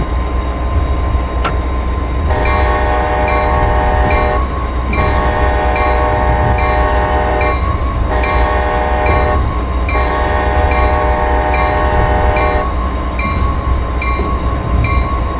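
A MARC Penn Line train horn blares loud and close in several long sustained blasts with short gaps, heard from aboard the moving train over constant rumbling track noise.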